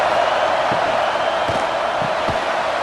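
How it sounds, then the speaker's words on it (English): A stadium crowd in College Football 26, Penn State versus UCLA, roars in a steady loud wash of cheering and noise, with a few dull thumps underneath. "Listen to this crowd just shaking the girders of this place trying to help their defense."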